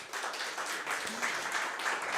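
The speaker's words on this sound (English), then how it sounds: "So a warm applause for Maja Denisova." Audience applause at a green-tech conference: a soft, steady patter of many hands clapping, fairly distant and even throughout, with no speech over it.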